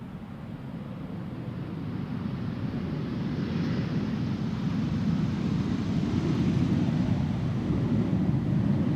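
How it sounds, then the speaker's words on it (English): A 12-year-old KLM passenger jet arriving from Glasgow at Schiphol Airport, a broad low engine roar that swells steadily as it approaches, heard from outdoors with some wind. "KLM flight 938 arriving from Glasgow"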